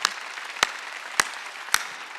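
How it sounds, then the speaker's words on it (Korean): A church congregation at a Wednesday worship service claps together in rhythm, with four sharp, evenly spaced claps over a low room murmur and no clear speech. "다시 지금 박수 치려고 소리쳐"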